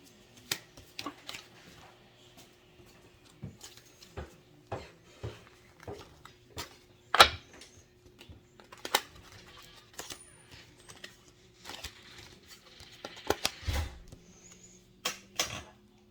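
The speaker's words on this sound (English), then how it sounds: "Let me pick some of these cards up." Tarot cards are gathered up and shuffled at close range, a long run of quick papery riffles, slaps and taps with short pauses between bursts and no talking.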